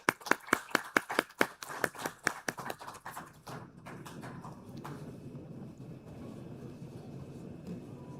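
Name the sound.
audience applause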